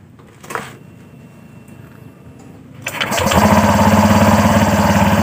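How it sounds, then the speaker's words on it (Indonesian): A Honda Vario 125 scooter engine is started after a few seconds of quiet handling noise, catching and settling into a loud, steady idle close by. "Motor kita nyalakan."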